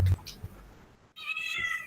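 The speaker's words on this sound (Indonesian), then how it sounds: "Ada suara kucing lah." A cat meows once, close and clear, a short rising-falling cry near the end after a brief quiet moment, with faint room noise and a soft voice-like sound before it.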